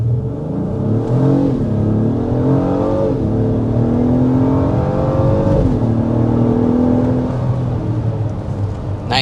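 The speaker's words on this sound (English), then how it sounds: "we want to go ahead and start with a hard acceleration" 2025 Acura MDX Type S under hard acceleration, heard from inside: a loud engine rising in pitch through several gear shifts, each shift dropping the tone before it climbs again, with steady road and wind roar underneath.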